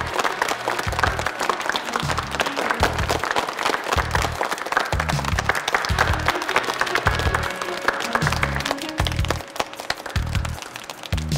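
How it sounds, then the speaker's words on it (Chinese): Warm applause from a group honoring Beijing Sport University team members, dense continuous clapping that holds steady and fairly loud across the whole stretch with no talk. "我们要给北体大的队员热烈的掌声"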